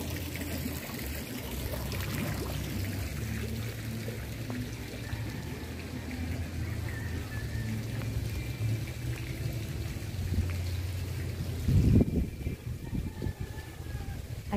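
Water flows steadily at the water source of a strawberry farm in Alfonso, a continuous close trickling rush with faint background sounds and a brief louder splash toward the end.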